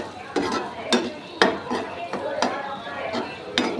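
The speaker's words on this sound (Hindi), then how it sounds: "ऐसे टमाटर को हम कुचल रहे हैं" A spatula crushes tomatoes in a pan while chutney cooks, with a clanking, scraping strike repeating about every half second, close and moderately loud over a faint sizzle.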